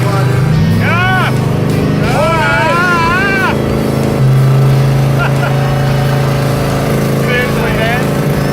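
A loud car engine drones steadily while cruising on a highway, its deep hum running throughout as people in the cabin talk and laugh over it.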